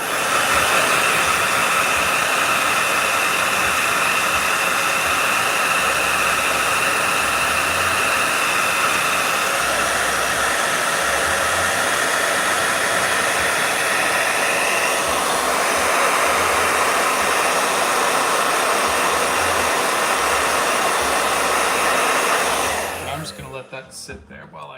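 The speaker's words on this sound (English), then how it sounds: "Blow dryer." A blow dryer runs loud and steady as a continuous whooshing roar for most of the stretch, then cuts off abruptly near the end.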